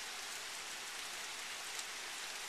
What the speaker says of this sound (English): Just lots of rain.